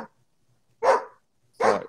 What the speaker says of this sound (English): The neighbor dog's going crazy.